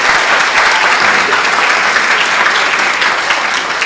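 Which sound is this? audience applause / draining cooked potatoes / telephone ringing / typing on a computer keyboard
audience applause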